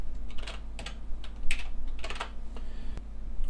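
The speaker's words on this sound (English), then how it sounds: "Just click in the password box and type your new password in." Someone types a password on a computer keyboard, close up, with a quick run of light key clicks and a few sharper taps over a low steady hum, and no voices.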